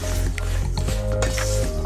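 Flattened rice being stirred together with sugar and cardamom in a bowl, a short run of soft, close squishing and scraping sounds with no talk.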